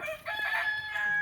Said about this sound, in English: these are mostly bantam chickens